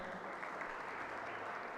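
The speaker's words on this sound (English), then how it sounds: "Loud applause." Applause rises from the audience at a school ceremony, a steady, even patter of many hands clapping, heard somewhat quietly and at a distance.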